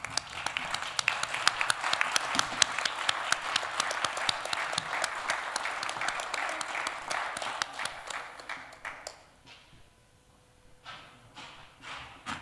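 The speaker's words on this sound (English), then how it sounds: "Can I please ask you to stand and give them a round of applause?" An awards event audience gives a standing round of applause, dense, close clapping that rolls on for several seconds, then thins to scattered claps and fades into near quiet with a few final claps.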